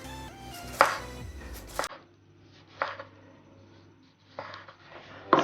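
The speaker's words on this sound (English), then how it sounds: "So that's how I'm going to chop it." Cucumber sliced into thin rounds on a board for a watermelon and cucumber summer salad, giving a few sharp knife taps spaced apart with quiet pauses between them.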